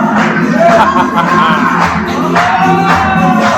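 Crowd at a live wrestling event, a loud continuous roar of cheering and shouting voices filling the space, close and dense with a few individual yells standing out.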